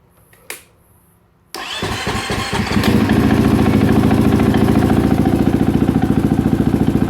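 A 2017-2018 KTM 450 EXC-F dirt bike is heard close up: a brief click, a short silence, then the engine cranks, catches and settles into a loud, rapid, steady idle.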